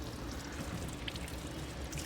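Cold water runs from a tap during a fiberglass skiff restoration, a steady close rushing pour lasting a couple of seconds.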